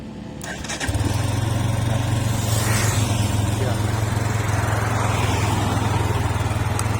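A GPX Demon 150 motorcycle engine starts after a brief click and settles into a steady, loud, close idle with a buzzing low drone that holds to the end.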